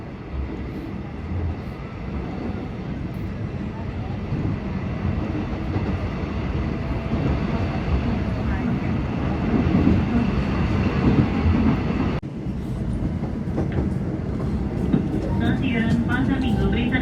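A KAI commuter train rolling along the line near Pasar Minggu station, a steady loud rumble and rail roar heard from inside the car, with a sharp shift in tone near the end as the ride continues.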